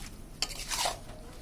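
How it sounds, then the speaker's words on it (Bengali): Raw mango pieces for pickle stirred in a pot: a brief, soft scrape of a spoon against the pot, faint and close, with no talking. "ঢাকাটা খুলে আবারও আমরা আমটাকে একটু নেড়ে চেড়ে নিচ্ছি"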